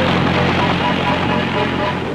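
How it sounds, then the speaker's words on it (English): Military helicopter flying in with supplies and ammunition for armored units in combat, its steady rotor and engine drone loud and continuous throughout, filling the whole clip. "Helicopters bring in badly needed supplies and ammunition."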